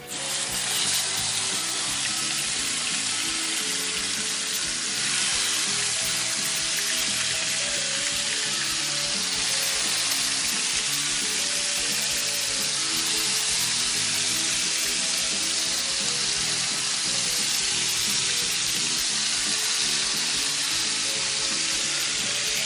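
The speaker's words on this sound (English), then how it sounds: "Take our meat, let's start searing it." Bear meat searing in bacon fat over a camp fire, a loud, dense, unbroken sizzle and crackle held close for the whole stretch.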